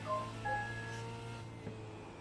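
Several brief electronic notification tones from a phone chime in quick succession over a steady low hum, fairly quiet.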